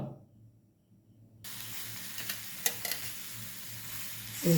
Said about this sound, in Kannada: ಒಂದು ಅರ್ಧ ಟೀ ಸ್ಪೂನ್ ಎಣ್ಣೆ ಹಾಕಿ ತವೆಯಲ್ಲಿ ಹುರ್ಕೊಳ್ಳೋದು ಹುರ್ಕೊಳ್ಳುವಾಗ ಜೊತೆಗೆ ಹಸಿಮೆಣಸಿನಕಾಯಿ ಕೂಡ ಸೇರಿಸ್ಕೊಳ್ಳೋದು